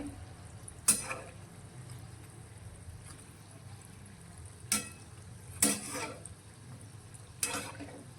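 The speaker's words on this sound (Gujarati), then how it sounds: "તો આ રીતે આપણે તેને ફેવરતા જઈ અને સારી રીતે તળી લઈશું" Batata vada, spiced potato fritters, fry in hot oil with a soft, continuous bubbling hiss. Four sharp clatters from a slotted spoon turning them punctuate the sizzle.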